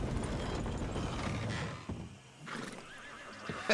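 A horse in Red Dead Redemption 2 whinnies loudly over clopping hooves and creaking, mechanical rattles, then the noise thins to quieter creaks and a final brief squeal.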